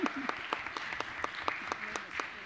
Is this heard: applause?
yes